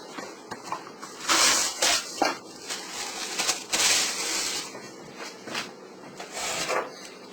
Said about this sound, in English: now I'm mixing in my pink before I add my lemon juice